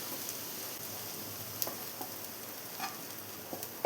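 Steady, fairly quiet sizzle of chicken fried rice with vegetables and chicken being gently stir-fried in a pan, a continuous hiss broken by a few soft scrapes and clicks of the spatula.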